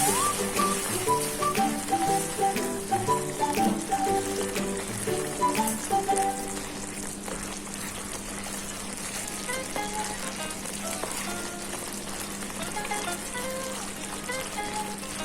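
Mushroom soup bubbles and hisses in a pot with a constant rain-like crackle, while tonal background music plays over it and fades partway through.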